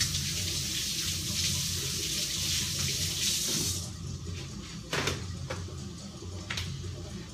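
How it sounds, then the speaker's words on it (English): A kitchen tap runs steadily into a sink while something is rinsed off, a broad rushing hiss for almost four seconds before it shuts off, followed by a few soft knocks and clatters. "Let me wash that off."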